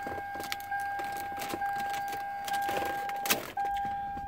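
Key in the ignition of a 2006 Lexus SC430, quiet close metallic jingles and clicks from the key and fob with a steady electronic chime tone running behind, no talk.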